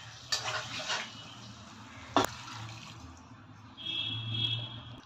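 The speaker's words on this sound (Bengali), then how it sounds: "এবার আমি জলটা দিয়ে দিচ্ছি।" Water pours into a pan of Patiala chicken curry with a brief gushing splash, then a sharp clank of a vessel and a later stretch of softer running and bubbling, close by and without voices.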